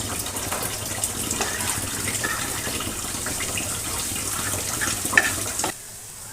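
Water poured into a pan of cabbage cooking with fried fritters and raisins, a steady close sizzle and splash with faint clinks, stopping abruptly near the end.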